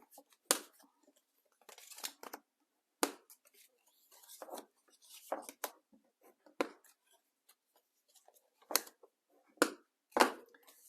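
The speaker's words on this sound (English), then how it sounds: "then we're going to bend each, burnish each of our score lines" A card's score lines are bent and burnished by hand, heard as close, sharp scraping and creasing strokes in irregular bursts separated by quiet gaps.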